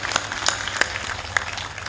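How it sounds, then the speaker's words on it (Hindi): Audience applause at a devotional discourse gathering: scattered claps with a few sharper individual hits over a steady low murmur, moderately loud and continuous, with no clear voices. "खड़े हो जाइए, ताली बजा दीजिए।"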